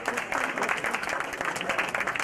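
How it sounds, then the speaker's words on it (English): An audience at a Rotary club anniversary event in Brattleboro gives a short burst of steady, moderately loud applause, the claps dense and close. "Let's have some Nice applause to have you here."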